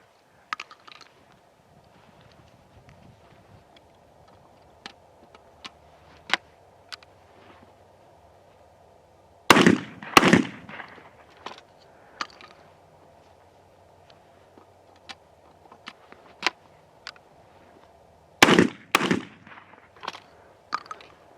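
A Cimarron 1878 double barrel shotgun fires outdoors, with two pairs of loud, sharp reports spaced several seconds apart. Faint clicks and handling sounds run between them over a quiet background hum.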